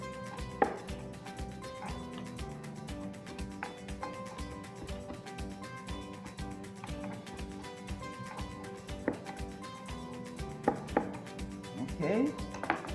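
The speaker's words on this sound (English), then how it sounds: "I'm going to chop up some fresh basil" Fresh basil being chopped with a knife on a board, a rapid, steady series of close, crisp chops that continues throughout at moderate loudness.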